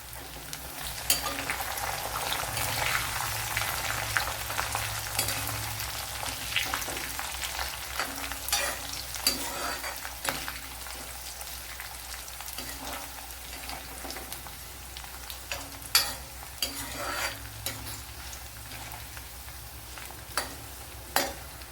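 Curry leaves sizzle in hot oil for a gooseberry curry, a dense crackling hiss that runs steadily throughout. A spoon stirs the pan in scattered scraping taps, close up, with no voices.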